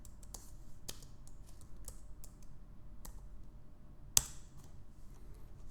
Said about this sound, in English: So I'll just type Flutter clean.